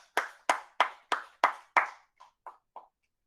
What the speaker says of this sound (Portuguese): Palmas a nosso Senhor Jesus Cristo.